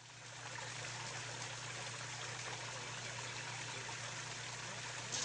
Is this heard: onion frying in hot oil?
no